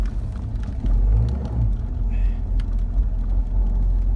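A 1994 Ford Mustang GT SN95 drives along, its engine giving a deep, steady rumble heard from inside the car that swells slightly before settling into a constant drone.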